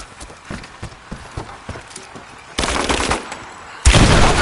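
Gunfire from the Rise of the Tomb Raider game: soft irregular hoof-like clicks first, then two loud dense bursts of automatic fire, each lasting about a second, close and harsh.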